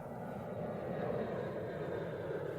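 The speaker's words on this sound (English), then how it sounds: "The sound of an airplane." An airplane passing overhead gives a steady, broad engine drone that holds at an even level throughout, with no voices over it.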